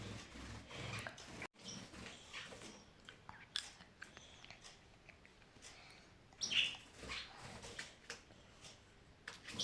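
Small bird trapped indoors in a bedroom, giving a few faint, scattered chirps against a quiet room with soft rustling and handling noises, one sharper high chirp standing out near the end.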